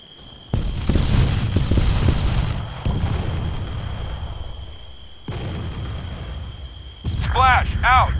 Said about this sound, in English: I've got some more artillery coming in.